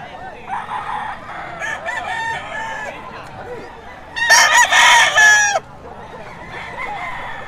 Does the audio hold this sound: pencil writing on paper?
no